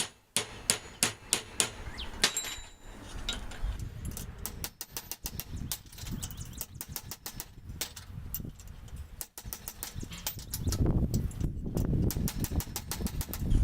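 Repeated hammer blows shaping straight welded metal pieces for a hibiscus sculpture, a steady series of sharp, loud metallic strikes close by, with some irregular clanks and faint background noise between them.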